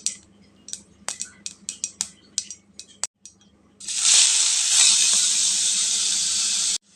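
Chopped onions tipped into hot oil with popped mustard seeds hit with a loud, steady sizzle after a few seconds of sharp clinks and scrapes from a utensil against the pan.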